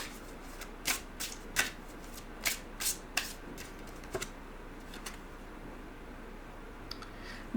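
Oracle cards shuffled by hand for a Dream Song Oracle reading, a series of soft riffling snaps and taps in an irregular rhythm, close but quiet, thinning out toward the end with no speech.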